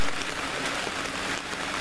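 A heavy rain downpour hisses steadily and loudly, a dense continuous wash of drops outdoors during a night fishing trip in Ankara, with no talk.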